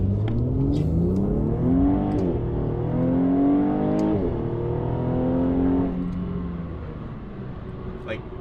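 Mercedes C450 AMG accelerating hard through gears, engine pitch rising repeatedly then dropping at each shift, a steady close interior rumble that fades toward the end, with talking over it.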